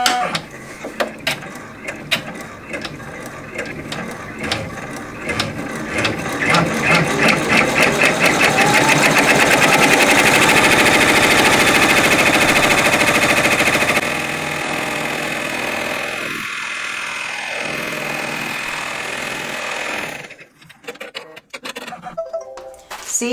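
Embroidery machine stitching a cross and Christmas flowers panel, a steady rapid mechanical needle rhythm that builds in loudness, runs for over ten seconds, then changes pace before stopping near the end, with no talking.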